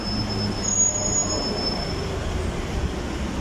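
A metro train rumbles steadily at Oud Metha Metro Station in Dubai, with a high metallic wheel squeal rising briefly over the continuous rolling noise.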